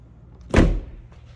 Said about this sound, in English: I'm just gonna get these doors open up here